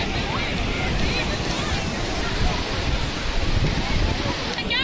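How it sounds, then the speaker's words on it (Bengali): Large ocean waves roll onto Marina Beach in Chennai, a steady, loud wash of surf with wind buffeting the microphone throughout and voices faintly mixed in. "বড় বড় ঢেউ।"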